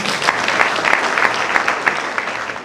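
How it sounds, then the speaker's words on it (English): Steady applause from a large crowd for a speaker at a university graduation ceremony in Kenya, continuous dense clapping with little talk. "Can you clap for him?"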